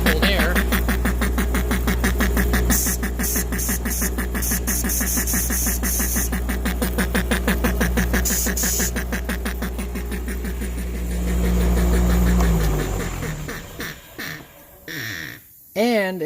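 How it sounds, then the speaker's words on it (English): Homemade air compressor running and building pressure in a tank in a workshop near a lathe, a loud, rapid mechanical chugging that holds steady, then slows and sputters to a stop with a few short bursts at the end. "This is a DIY air compressor right here"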